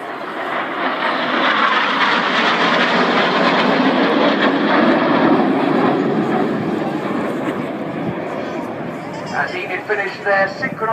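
Red Arrows jet aircraft flying a display formation and entering a rolling manoeuvre, a loud, sustained broadband engine roar that holds steady for most of the time and then fluctuates and thins toward the end, with no speech over it.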